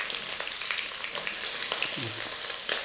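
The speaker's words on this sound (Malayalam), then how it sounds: "ഇനി ഇത് നന്നായിട്ടൊന്ന് വഴറ്റിയെടുക്കണം" Green chilies and sliced onion sauté in hot oil with garlic masala in a pan for a cauliflower curry, giving a steady close sizzle with occasional stirring scrapes and no talk.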